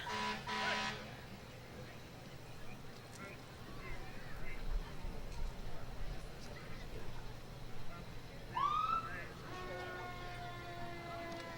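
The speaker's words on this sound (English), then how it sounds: "Honking there to punctuate the end of the part." A vehicle horn honks at a small-town evening parade, one short toot rising above steady crowd and street noise, with a voice talking over it and a siren-like wail near the start.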